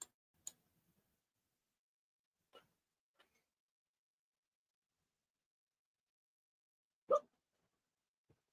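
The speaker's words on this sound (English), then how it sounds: "the hiccups I'm trying to stifle through the microphone" Faint, isolated hiccups are held back in a quiet room, with a few soft, brief catches spread out over several seconds and one sharper, louder hiccup near the end.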